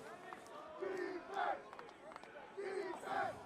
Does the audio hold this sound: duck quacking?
no